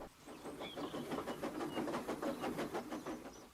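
A train running along the track, a steady rhythmic clatter of wheels over rail joints with a rushing rumble, fairly loud and alone.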